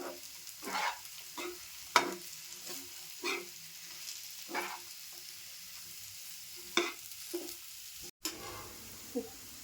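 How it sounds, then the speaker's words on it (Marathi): Masala-coated prawns stir-fried on a flat iron tawa, Malvani style: a soft steady sizzle broken by irregular scraping and clinking strokes of a spatula, close and fairly quiet, with no voices. "असं लावून फ्राय केल्यानंतर खूप छान लागतं आता सावकाश हलक्या आता मी आता परतून घेते"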